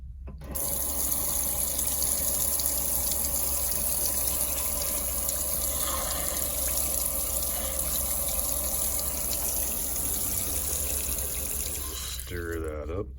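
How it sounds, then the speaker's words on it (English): Warm water pours steadily from a tap into a cup of Elmer's School white glue to dilute it, a continuous close splashing gush that stops near the end. "we're going to dilute this about 50-50 with some warm water"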